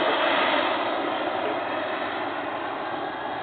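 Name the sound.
gas turbine RC jet with gear down, approaching to land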